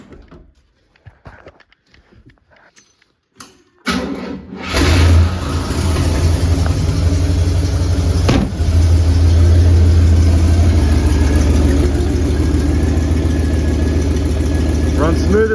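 A rebuilt 472 V8 in a 1968 Cadillac DeVille cranks and catches after a quiet start, briefly revs, then settles into a steady, smooth, loud idle heard up close.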